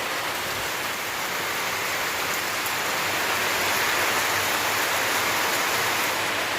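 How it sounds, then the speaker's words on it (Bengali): Heavy rain pours outdoors during a Kalbaishakhi storm, a dense, loud, steady hiss that fills the whole stretch without a break or any voices. "কতটা বৃষ্টি, কতটা বৃষ্টি পড়ে রে?"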